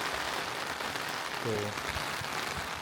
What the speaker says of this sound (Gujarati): વરસાદ હજી પણ એટલું પડે છે ને, જો સોલિડ આવે છે એકદમ